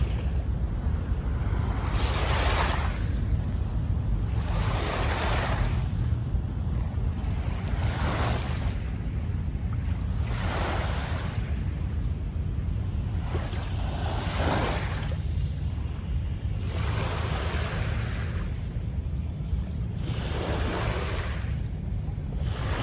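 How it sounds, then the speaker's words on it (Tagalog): Ocean waves wash in on the shore of Manila Bay, a steady rhythm of surges breaking every few seconds over constant wind rush, fairly close and moderately loud. "Sarap lang pakinggan yung hampas ng alon"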